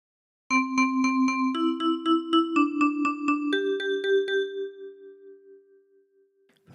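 A 10-key kalimba playing a meme tune, quick repeated plucked notes in groups of four stepping between pitches, clear and close with ringing metallic sustain fading at the end.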